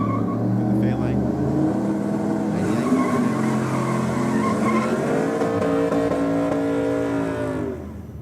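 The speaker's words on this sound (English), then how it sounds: "Big burnouts from the 2 commercials here down on the start line." Drag cars from the commercials class do big burnouts on the start line at Sydney Dragway, with loud sustained engine roar and rising revs under a commentator's talk.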